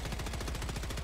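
Rapid automatic gunfire in Helldivers 2, aimed at robots, a steady stream of closely spaced shots filling the whole moment, loud and continuous.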